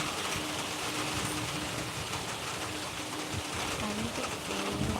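Heavy rain pours outdoors as a dense, continuous hiss of drops striking surfaces, steady and fairly close throughout.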